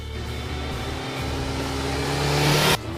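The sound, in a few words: motorcycle engine revving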